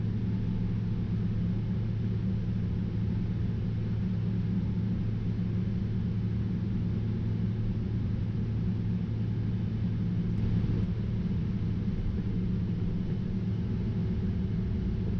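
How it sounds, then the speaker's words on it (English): British Airways Boeing 777-300 taxiing out to runway 9 right at Heathrow, a steady, loud, broadband engine drone and cabin rumble that holds even throughout with no talk. "As we taxied out to runway 9 right, and we're pretty much rolling straight away"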